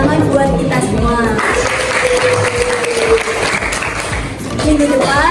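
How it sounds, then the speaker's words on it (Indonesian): Students clapping in a high school history classroom, a close, loud burst of applause mixed with voices and chatter, swelling again toward the end. "Beri tepuk tangan buat kita semua."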